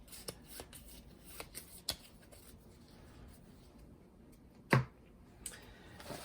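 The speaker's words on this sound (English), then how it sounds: "let me just shuffle these up real quick" Playing cards being shuffled for an Arkham Horror board game, a string of soft riffling ticks and flutters near the mic in a quiet room, with one louder riffle burst near the end.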